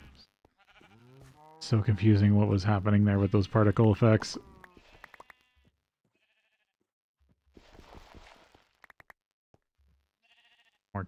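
A Minecraft sheep in the GregTech: New Horizons modpack bleats loudly for a couple of seconds, followed by faint munching while grazing; someone talks briefly afterward.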